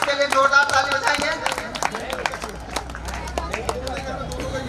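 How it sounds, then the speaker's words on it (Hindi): An audience at a Saraswati Puja festival claps for a student being honoured, with a busy crowd clatter of hands under chatter and a voice speaking. "आप लोग जोरदार ताली बजाएं तनिष्क के लिए"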